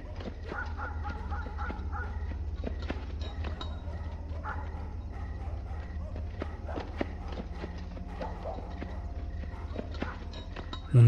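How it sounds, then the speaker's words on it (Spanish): Hooves clip-clop steadily over a low hum, the rhythmic clatter of a horse moving along at a moderate distance. "alcanzó a escuchar cómo se alejaba el caballo"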